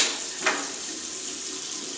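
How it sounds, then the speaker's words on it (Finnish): Tap water runs steadily into a sink during hand washing, a soft continuous stream with a brief splash near the start. "Käsiä täytyisi pestä noin 15-20 sekuntia juoksevan veden alla."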